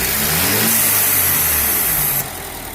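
BMW F30 328i engine with a blow-off valve installed revving loudly close by, a sustained roar with a hissing rush on top that cuts off abruptly near the end.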